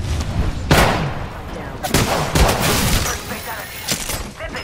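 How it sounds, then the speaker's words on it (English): Thermite grenade going off in Apex Legends, a sharp burst followed by a sustained fiery roar with several loud impacts, with a game voice line speaking over it. "Thermite grenade out."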